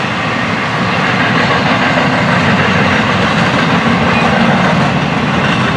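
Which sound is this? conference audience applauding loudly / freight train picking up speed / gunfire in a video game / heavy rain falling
freight train picking up speed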